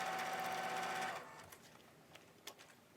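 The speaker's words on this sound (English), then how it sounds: "Let's try and sew this velvet ribbon on to see if it works." A sewing machine stitching velvet ribbon onto card stock runs with a loud rapid whir for about a second, then stops, leaving a few faint clicks and handling noises.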